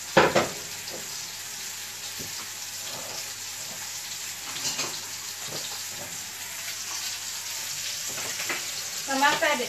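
Pork sizzles and crackles steadily in hot oil while being stirred, with scraping and occasional louder spatters throughout, in a home kitchen during a power outage.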